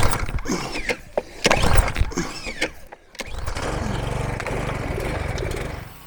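Pull-start engine of a pressure washer: rough pull-cord rattles and sputters, then the engine catches and settles into a loud, steady running drone, close by.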